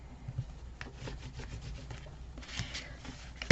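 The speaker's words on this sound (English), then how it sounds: "we're going to burnish" Burnishing the edge of a leather folio flap: a steady, close rubbing and friction sound with repeated short strokes, alone with no talking.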